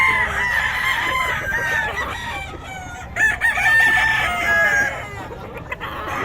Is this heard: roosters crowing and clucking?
yes